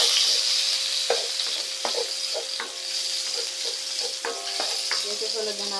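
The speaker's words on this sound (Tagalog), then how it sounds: "Sautay ko na natin yung bawang" Garlic sautéing in a hot pan for seafood pasta, a steady loud sizzle throughout with intermittent spatula stirs and scrapes, close up.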